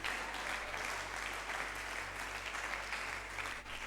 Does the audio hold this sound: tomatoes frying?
no